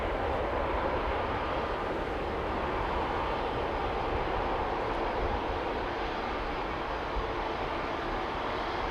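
An Air Malta A320neo airliner departing Amsterdam Schiphol Airport, heard as a steady, broad engine roar held at an even level for several seconds.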